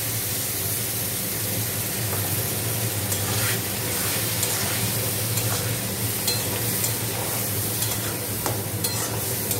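Fried potatoes and onions sizzle loudly in a pan as a mixed spice paste is added and stirred, a constant close hiss broken by scraping and stirring sounds.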